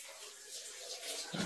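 A shower runs steadily in another room of a home, a soft continuous hiss of falling water heard at a distance.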